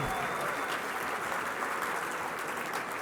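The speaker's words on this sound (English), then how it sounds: "give a round of applause to all of our speakers and honorees tonight" A room full of people at a gala claps steadily for speakers and honorees, a continuous wash of applause with no pauses.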